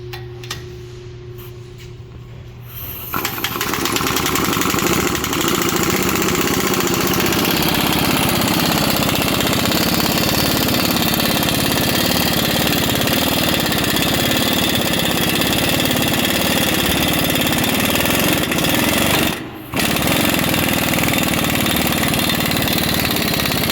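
A pneumatic air tool with a 23 mm socket drives a track bar ball joint out of a Ford Super Duty truck, starting after a few seconds of quiet, then a loud, steady, continuous rattling drone that briefly cuts out and resumes.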